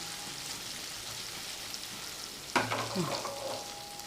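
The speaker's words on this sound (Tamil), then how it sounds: "இப்போ இந்த மாதிரி வதங்கணும் நாலா பக்கமும் நல்லா வதங்கி சுருண்டு வரணும் கத்திரிக்காய்" Stuffed baby brinjals sautéing in a pan give a soft continuous sizzle, then a louder burst of frying and scraping as the pieces are turned partway through.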